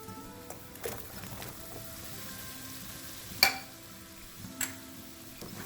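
Fried fish being stirred into sautéed fish-pickle spices with asafoetida, a faint, low sizzle running throughout with a few soft scrapes and one sharper clink of a utensil against the pan.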